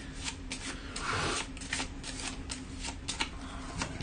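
Playing cards from the Arkham Horror board game are shuffled close up in a steady run of soft riffles and brisk snaps, with no other sound.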